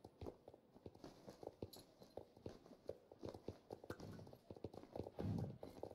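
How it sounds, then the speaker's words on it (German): A horse's hooves clip-clop in a steady, quick rhythm while riding through Star Stable Online, soft and close, with a brief louder thump near the end. "Dann reiten wir mal schnell zum Marktplatz."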